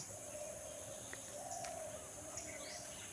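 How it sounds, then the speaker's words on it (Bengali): Wild sparrows and other birds call at dawn after a night of heavy rain, a few faint chirps and short whistles scattered over a steady outdoor hiss, distant and sparse. "এখানে নানান রকমের পাখি, মোটা মোটা এক ধরনের চড়ুই, বুনো চড়ুই"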